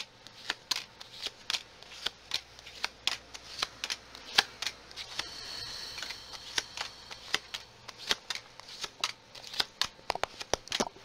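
Tarot cards shuffled by hand in a long run of crisp, rapid riffling bursts, close and fairly quiet, with no talking over them.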